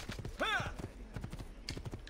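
Horse hooves clip-clop in the video game Assassin's Creed 2, a rhythmic, fairly close run of hoofbeats with a brief voiced, whinny-like sound early on.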